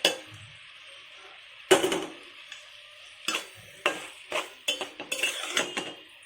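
A spoon stirs ground ginger, garlic and grated coconut into snake gourd curry in a pot, giving irregular scraping clinks and knocks with quiet pauses and a faint sizzle underneath.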